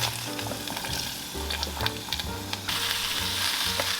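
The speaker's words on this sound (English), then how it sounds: "Now heat some oil in a pot and lightly saute all the vegetables." Vegetables sautéing in hot oil in a pot, a steady bright sizzle with occasional stirring clatter and scraping, close and continuous without voices.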